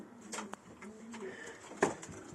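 Soft, low pigeon coos sound intermittently at close range, with a few light rustles and a brief sharper call near the end.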